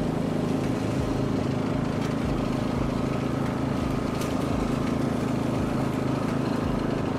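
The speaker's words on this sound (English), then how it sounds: "So here I'm mowing the lawn just to give you a little show of what this mower is up to." A Cub Cadet CC30H hydrostatic riding lawn mower runs steadily while mowing grass, its engine droning loud and close with a constant low rumble and no talk over it.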